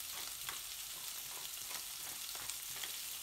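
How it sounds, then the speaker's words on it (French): Salsify pieces browning in a frying pan with melted butter and a dash of olive oil, giving a steady, close sizzle with soft crackles and faint stirring throughout. "dans une poêle, un petit peu de beurre fondu, un tout petit soupçon d'huile d'olive, vous y mettez vos salsifis à colorer"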